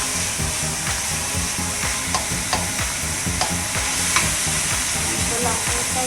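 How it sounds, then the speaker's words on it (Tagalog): Ingredients for a pasta sauce sizzle and fry steadily as they brown in a pan, a continuous close crackle with occasional stirring clicks and scrapes, no voices. "Sure, magpa-brown muna siya bago ilalagay ang pasta sauce."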